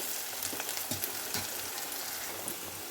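Sliced onions with salt frying in oil, an even crackling sizzle with soft bubbling pops, close and steady with no voices.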